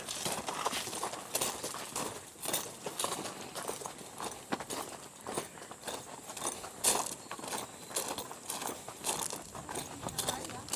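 Horse hooves clop along at a steady walking pace, close by, out in the open, with a few voices murmuring underneath.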